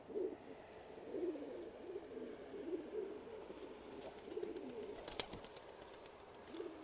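Pigeons of a fancy breed coo softly and repeatedly in a low, throaty rhythm, with a faint rustle and a brief sharp knock partway through, no voices.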